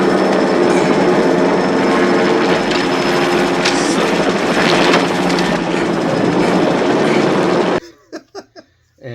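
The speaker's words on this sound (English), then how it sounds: "The helicopter shows up with your buddy." A dense, roaring clatter of a helicopter in the film First Blood fills the scene loudly and continuously, then cuts off abruptly to short bursts of a voice.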